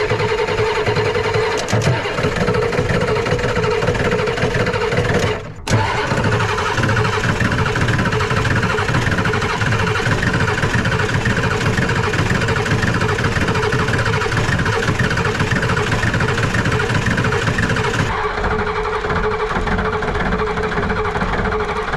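A Ford 7.3 IDI diesel engine running rough on only some working glow plugs, a loud, close, continuous clattering idle that holds steady throughout, with a brief dip near the start and no talking.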